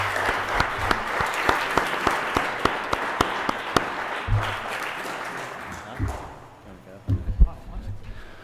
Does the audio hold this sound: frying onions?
no